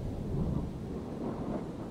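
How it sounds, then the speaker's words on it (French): A thunderstorm in the video game SCUM, made up of a deep, continuous rumble of thunder and a steady hiss of rain, with no voices over it. "le graphisme, le son, là, l'orage et tout"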